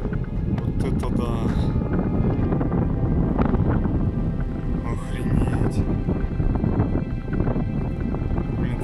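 Strong wind buffets the microphone at a steep cliff edge on the summit of a jungle mountain on Ko Chang, Thailand, a loud continuous roar with gusty surges throughout.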